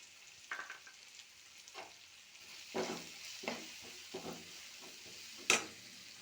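Tomato frying in a pan with turmeric, methi powder and jeera powder for drumstick sambar, a soft sizzle broken by several scraping stirs and one sharp clatter of utensil against pot.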